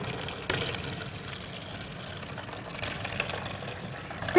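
Coloured water pours steadily into a bottle for a small classroom density experiment, a soft continuous liquid trickle with a few louder splashes and no talking.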